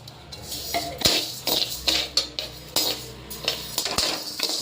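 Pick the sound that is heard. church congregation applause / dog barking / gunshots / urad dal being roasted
urad dal being roasted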